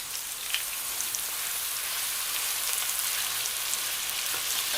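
Chicken breasts frying in butter and oil in a pan on a gas stove, a steady bright hiss and crackle of sizzling fat, continuous and close with no talking.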